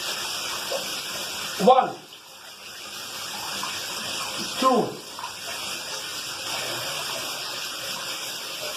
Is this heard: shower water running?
yes